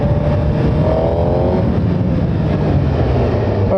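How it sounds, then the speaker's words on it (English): A 2017 Suzuki GSX-R1000 sport bike on a test ride gives a loud, deep induction roar with steady engine drone close to the rider, plus a brief rising whine early on. "you can definitely hear that gixxer sound, that deep induction noise"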